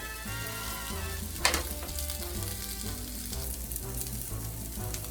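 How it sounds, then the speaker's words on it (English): Meatballs browning in a frying pan for a Bolognese, a steady close sizzle and crackle of frying running throughout, with a sharp brief clatter near the start and faint tonal background music underneath. "we have done some browning of the meat"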